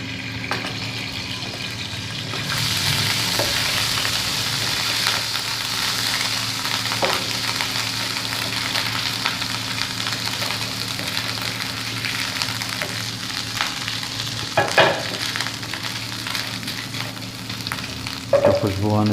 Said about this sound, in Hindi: अब इसमें लहसुन और अदरक का पेस्ट शामिल करते हैं।